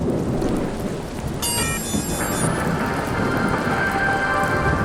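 Steady heavy rain with rolling thunder rumbles through a nighttime city in the video game Watch Dogs, a dense continuous wash loud throughout, with brief tonal game sounds layered on top partway.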